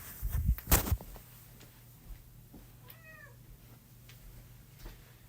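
A cat gives one short, rising meow in the middle, close but not loud, after a loud thump and rustle at the start, with a steady background hum.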